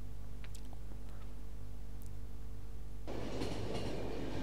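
Train moving along rails in a video game, a steady low rumble throughout that swells into a louder, broadband rolling clatter in the final second or so, with no talk over it.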